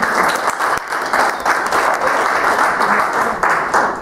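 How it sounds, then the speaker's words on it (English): A room full of people at a church workshop on youth and young adult ministry claps loudly, a thick, steady burst of applause filling the whole stretch. "Give yourself a round of applause"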